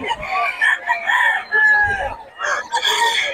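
A rooster crows loudly and repeatedly up close while chickens cluck around it, with a few faint low voices underneath.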